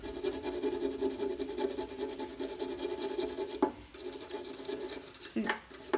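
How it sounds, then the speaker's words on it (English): Surface rust being scraped off a metal light holder on a Royal Enfield motorcycle, a steady close rasping rub broken by a few sharper scratches near the end. "there is some surface rust over here. Let me just try to scrape it."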